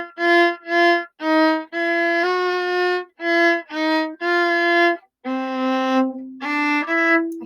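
Bowed cello plays the opening phrase of a theme from Harry Potter, a series of clear sustained notes with short gaps between them, close and solo with no talking.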